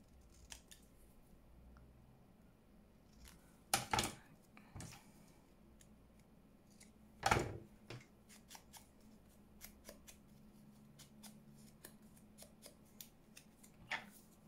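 Scissors snip through paper while making junk journal embellishments, a few sharp close cuts standing out from quiet rustling and light ticks in a calm room.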